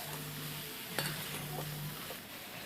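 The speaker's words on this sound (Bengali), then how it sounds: "তরকারিটাকে বারবার নাড়তে হবে" A mixed vegetable curry is stirred in a pan, with soft scraping and gentle sizzling under a steady background hiss and one brief clink of the utensil.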